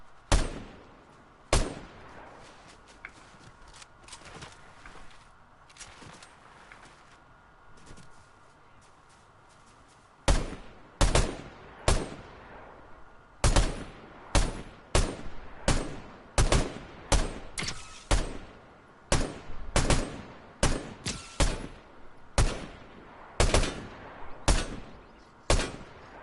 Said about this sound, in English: Ooh, gunfire.